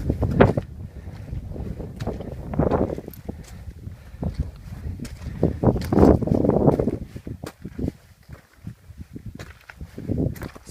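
Strong gusting wind near the Wheeler Peak summit in Great Basin National Park at sunset buffets the microphone in loud, rumbling surges that swell and ease over several seconds.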